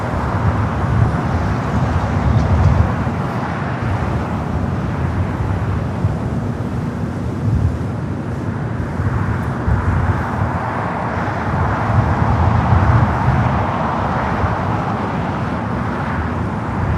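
Heavy jet airliners landing at LAX, a continuous loud broadband engine roar and rumble that holds steady throughout with slight swells, no talk over it.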